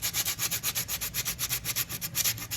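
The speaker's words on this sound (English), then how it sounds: "as you're sanding, you do want to still go with the grain" Wood being hand-sanded with the grain through successive grits, a steady back-and-forth rasp of about a dozen even strokes in rhythmic pulses, close and fairly quiet with no talk.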